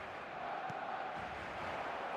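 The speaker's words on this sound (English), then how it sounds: "the crowd level has gone up a notch or 10" A stadium crowd in the eFootball 2026 video game roars after a Barcelona goal, a dense, sustained wall of cheering that stays steady throughout.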